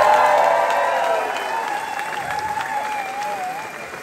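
A concert crowd at Paradiso in Amsterdam applauds and cheers, a dense roar of clapping that is loudest at first and then eases slightly while continuing steadily.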